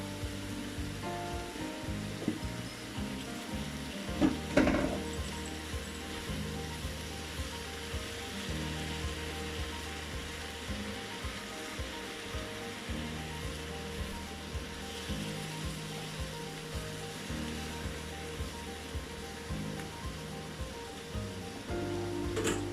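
Marinated prawns sizzle in a pan with softened vegetables for a Thai sweet chili rice noodle dish, a steady broad hiss that holds for the whole stretch with one brief louder clatter near the start.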